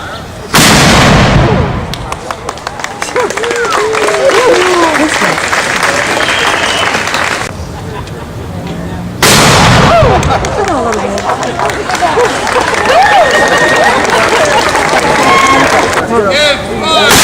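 Two loud cannon blasts from a 21-gun salute boom out several seconds apart, each followed by a long rumbling echo, while a crowd murmurs and voices call out.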